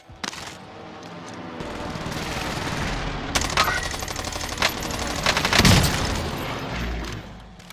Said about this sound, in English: Precision airstrike missed.